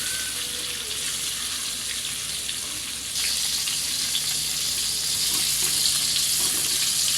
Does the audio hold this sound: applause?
no